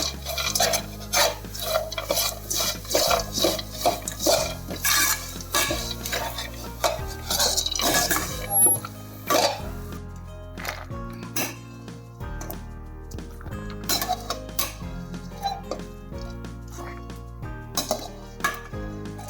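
Roasted dry fruits for a jaggery dry fruit pak are scraped out of a hot pan into another pot. A spoon clinks and scrapes on the metal in repeated knocks over background music.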